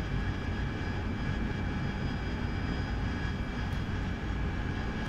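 An AV-8B Harrier's jet engine roars steadily in DCS flight simulation during a throttle-up, a dense, constant low rumble with a high whine layered on top and no speech.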